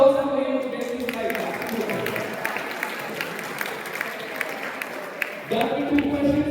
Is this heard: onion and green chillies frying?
no